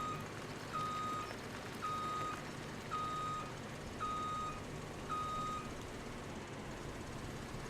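A vehicle in Farming Simulator 17 backs up, its reversing alarm giving steady evenly spaced beeps over a low engine rumble, about seven pulses roughly one second apart.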